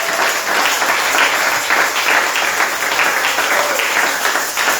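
Church congregation applauding and cheering to acclaim Jesus during a French-language service, a steady, dense wash of many hands clapping that fills the whole stretch at high volume without a break.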